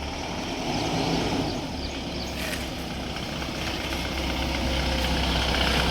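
A tour vehicle's engine idles steadily before setting off on a pilgrimage trip, a low, continuous rumble at moderate distance with no voices over it.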